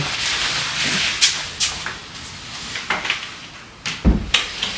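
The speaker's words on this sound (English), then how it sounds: "Let me close this door so you guys can see." A door being closed indoors, with rubbing and shuffling as it moves and several soft knocks and thuds, ending in a firmer latching bump near the end, no talk.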